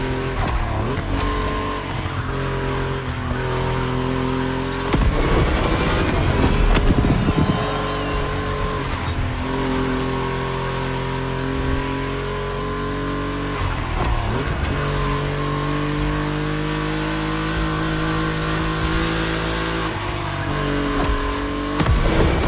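Volkswagen race cars from The Crew Motorfest roar around a game track, engines howling steadily and rising and dropping through gear changes, with bursts of tire squeal and skidding; the dense, loud engine noise runs throughout without voices.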